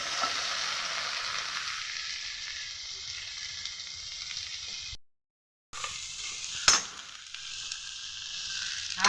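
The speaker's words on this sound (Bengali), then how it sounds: "টমেটোটাকে আমি শুকনো খোলায় নেড়ে নেবো একটু" Chopped medium-sized tomatoes stirred in a dry pan for a spicy chicken dish, giving a steady soft sizzle with a brief gap and one light utensil clink near the end, no voices.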